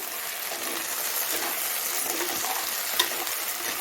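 Green field beans sautéed and stirred in a hot pan for a village-style spicy kuzhambu, giving a steady broadband sizzle with faint scraping stirs and one brief metallic clink near the end, no voices.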